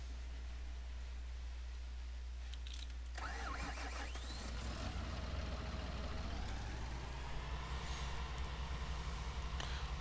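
A tractor engine in Farming Simulator 19 cranks and starts partway through, then settles into a rising mid-pitched idle over a steady low hum.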